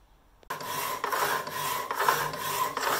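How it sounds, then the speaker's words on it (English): An old hacksaw cuts a metal support piece for a Batpod build, starting abruptly and rasping in steady back-and-forth strokes about twice a second, close and loud with no voices. "The old hacksaw working away again here."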